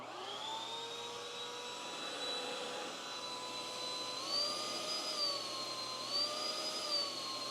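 Hoover Windtunnel Tangle Guard upright vacuum cleaner running steadily, a loud continuous motor whine and airflow roar with shifting tonal pitch, heard alone up close.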